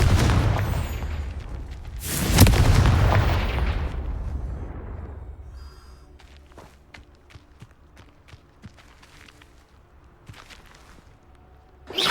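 A Confringo fire spell explodes in the Hogwarts Legacy video game with a loud, deep boom that swells and slowly fades over a few seconds, followed by quieter footsteps and light taps, then another sudden loud burst at the very end.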